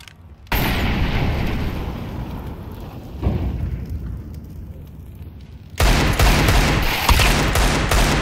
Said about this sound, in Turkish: Tahtadan sıkmaya başlayabilirsin aslında.